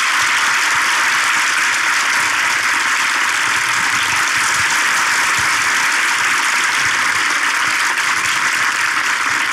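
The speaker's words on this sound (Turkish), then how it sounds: "Alkışlarla..." Sustained studio audience applause at a live comedy show taping in Ankara, a thick, even hiss of many hands clapping that stays loud for nearly ten seconds.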